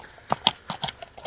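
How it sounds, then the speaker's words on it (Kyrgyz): A horse's hooves clip-clop in a short, uneven run of about six sharp strikes on hard ground, close by and fairly quiet, with no voices. "Ат экен жаныбар"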